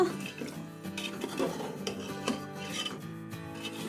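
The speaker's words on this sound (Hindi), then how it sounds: "और अब इसको अच्छी तरह हम भून लेंगे मसालों को" Spices for a homemade desi chicken curry scraped and stirred in a metal pot with a spoon, steady clinks and rasping scrapes under sizzling, close and continuous.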